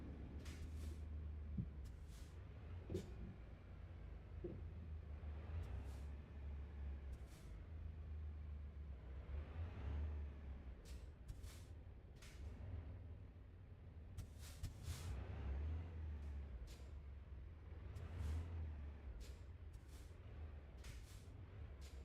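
A truck drives slowly through a port in the American Truck Simulator game, a low steady engine drone with repeated short hissing air-brake bursts throughout.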